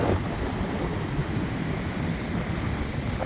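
Large ocean waves and surf at Pismo Beach during a storm with 10- to 20-foot swells expected, a continuous loud roar of breaking water mixed with wind noise, no talk.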